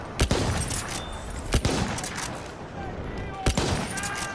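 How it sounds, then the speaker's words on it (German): Enemy machine gun fire in Battlefield 1 rattles as a continuous loud barrage, with several sharper bursts standing out over dense battle noise while a voice calls out. "Feindliches Maschinengewehr!"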